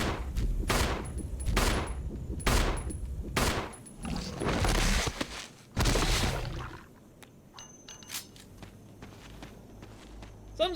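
Gunfire in the Resident Evil 3 Remake video game: a run of sharp, loud shots over about six seconds, mixed with footsteps, then quieter game ambience.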